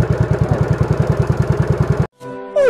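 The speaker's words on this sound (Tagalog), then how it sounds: "kumandar na yung motor" A repaired motorcycle engine idles close by in a steady, fast, even putter for about two seconds, then cuts out abruptly, followed by a brief rising whine.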